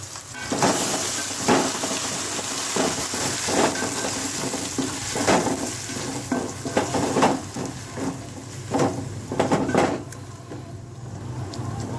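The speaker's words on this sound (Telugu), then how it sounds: "చూడండి వేగుతుంది కదా" Ground tomato and onion paste frying in a pan, a steady low sizzle with repeated scraping and stirring clatter against the pan throughout, close and fairly quiet, with no talking.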